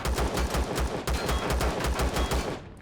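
Rapid automatic gunfire from a weapon aimed at a turret in Empyrion Galactic Survival, a steady, loud burst of evenly spaced shots lasting nearly three seconds with no talking.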